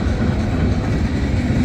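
A CSX freight train led by rebuilt CM44 locomotives rolls past near Ijamsville, Maryland, with a loud, continuous rumble and wheel clatter from close by.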